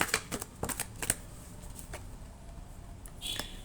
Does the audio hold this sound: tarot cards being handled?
yes